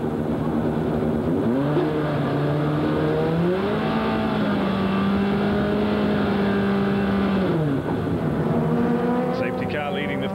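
BTCC touring cars from 2001 at Knockhill, rolling start behind a safety car: a pack of engines drones and rises in pitch together, loud and continuous, with a commentator talking over it.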